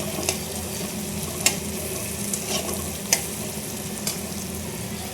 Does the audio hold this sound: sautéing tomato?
yes